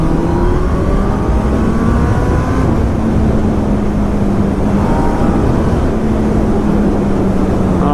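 A 2019 Honda CB1000R motorcycle with a Termignoni GP2R exhaust runs loud and close, rising in pitch as it accelerates through a gear and pulling again as wind roars throughout.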